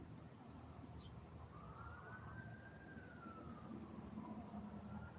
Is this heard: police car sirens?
yes